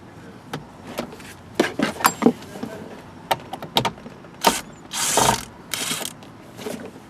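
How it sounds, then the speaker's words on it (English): Power screwdriver driving a screw into a rear door panel of a 1999-2004 Jeep Grand Cherokee, heard as a series of short, sharp ratcheting clicks and bursts with a longer whirring run near the end, close and fairly loud, with no talk. "Put a screw right there."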